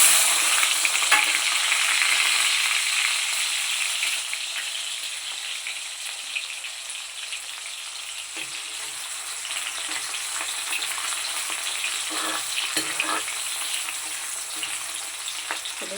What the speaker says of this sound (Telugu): ఆనియన్ అయితే వేసుకుంటున్నాను.